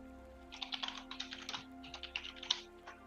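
Fingers type on a computer keyboard: quiet, irregular bursts of crisp clicks and clacks, close by, with no talking.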